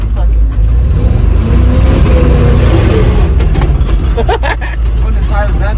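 An old 3-ton grain and gravel truck drives along in second gear, its engine a loud, close, continuous rumble with voices talking over it.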